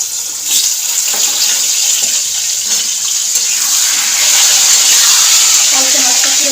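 Potatoes and papaya fry in hot oil in a wok with a loud, steady sizzle close by. The hiss swells briefly partway through, and faint speech can be heard beneath it.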